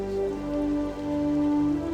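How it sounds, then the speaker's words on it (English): Rain falls in World of Warcraft TBC Classic as a steady, close patter of drops, with sustained in-game musical tones running underneath. "And now it's raining here too."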